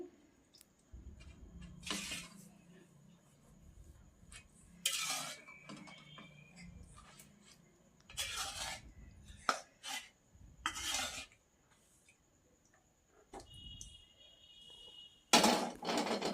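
Green peas curry ingredients are stirred and mixed in a cooking pot, with a spoon scraping in short, irregular bursts separated by quiet pauses.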